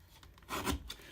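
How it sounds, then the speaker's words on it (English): A mini guillotine trimmer slices white borders off paper cards in one short, close rasping cut that swells and fades over about a second. "the mini guillotine trimmer is definitely the way to go. So just trimming all that white off"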